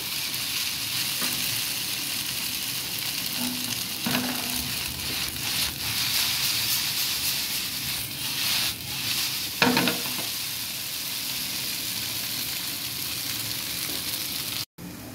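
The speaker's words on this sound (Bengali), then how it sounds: "নুডলস ভাজা হয়ে এসেছে।" Noodles mixed with egg fry in a pan with a steady, moderately faint sizzle, broken by repeated scraping and stirring strokes of a spatula over about fifteen seconds, with no talking.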